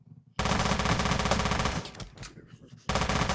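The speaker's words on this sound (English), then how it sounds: "Auto pistol is one of the more satisfying weapons to fire." Auto pistol in the video game Teleglitch fires in a loud, continuous stream of rapid shots, then the stream breaks off briefly and resumes.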